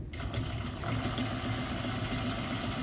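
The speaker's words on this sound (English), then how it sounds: "I'm going to back stitch to secure this" A sewing machine back stitches pillow fabric, giving a continuous, close mechanical whir with a steady fast needle rhythm that lasts the whole few seconds.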